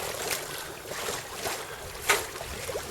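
A sailboat sailing singlehanded past sandbanks, with water swishing along the hull and gusty wind buffeting the microphone in uneven bursts, close and fairly loud.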